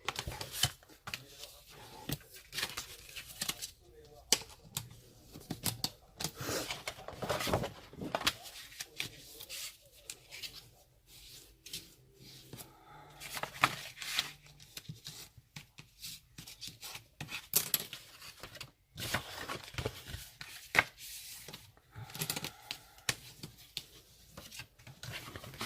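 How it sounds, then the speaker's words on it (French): Paper being scored along fold lines on a punch board for a handmade bag gives repeated scratchy rubbing and tapping strokes, close and fairly soft, with irregular rhythm throughout. "on va marquer les plis"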